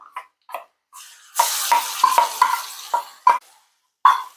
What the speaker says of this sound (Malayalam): ഉള്ളിയൊക്കെ നന്നായിട്ടൊന്ന് മൊരിഞ്ഞു വരണം ആ സമയം വരെ ഒന്ന് വഴറ്റിയെടുക്കാം